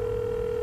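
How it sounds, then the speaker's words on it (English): A steady telephone dial tone in the Leisure Suit Larry Reloaded video game, one continuous held pitch with no variation, alone and fairly quiet, heard after picking up an in-game phone. "You pick up the phone and to your delight you get a dial tone."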